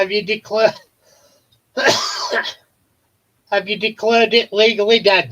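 One sharp, breathy sneeze bursts out during a relaxed indoor chat, set between stretches of conversational speech.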